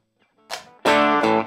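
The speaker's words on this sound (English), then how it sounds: "I've got a crunch," Crunch-tone electric guitar played through an Overloud THU amp simulator, a short burst of mildly overdriven notes followed by a louder sustained chord that rings out and is then struck again, alone without talk.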